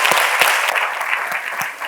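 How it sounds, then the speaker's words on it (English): A studio quiz-show audience breaks into dense, steady applause, many hands clapping together in a loud, continuous wash with a few sharper claps standing out. "Give them a round of applause."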